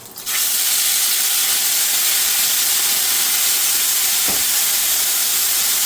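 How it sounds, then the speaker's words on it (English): Chunky onions sautéing in hot oil for Bombay potatoes, a loud, continuous close-up hiss that stays even throughout, with no voices. "Let's add a few chunky onions to that. Saute those onions."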